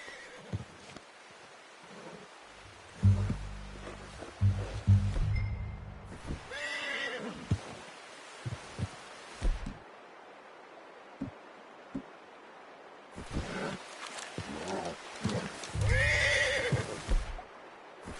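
A horse whinnies loudly several times in Red Dead Redemption 2, with hoof clops and rustling in between, in an otherwise quiet outdoor setting.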